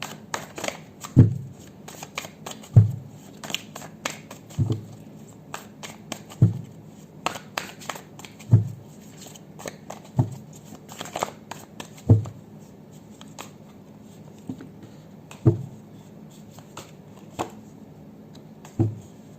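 Tarot cards shuffled by hand in a quiet room, a steady run of crisp riffling snaps and soft slides repeating every second or two, close up and alone with no talk.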